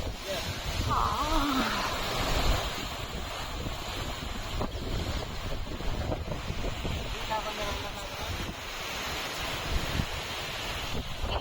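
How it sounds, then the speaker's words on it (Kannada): Steady wind of the Ashadha season rushes and buffets loudly across the microphone for several seconds during camphor lighting at an Ekadashi festival, with faint voices talking underneath. "ಎಷ್ಟು ಗಾಳಿ ಬೀಸ್ತಿದೆ ನೋಡ್ರಿ"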